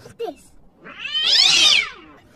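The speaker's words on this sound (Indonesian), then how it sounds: "melatih auman Simba yang masih mirip suara kucing kejepit." A strained, cat-like squeal rises and falls for about a second after a few short squeaks, a lion cub trying to roar.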